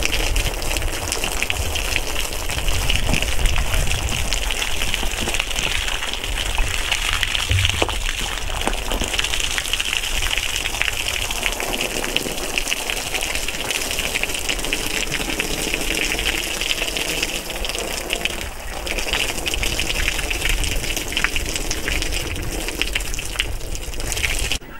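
Water is poured heavily and steadily over a spruce spar to rinse away acid, a continuous close gushing and splashing with no talk.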